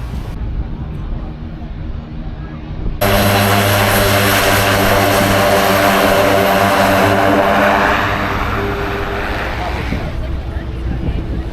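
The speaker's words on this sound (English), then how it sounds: "let's go see some planes land" A loud landing airplane roars in abruptly near a beach in St Martin and holds steady, a heavy engine drone with a low hum, then eases slightly toward the end.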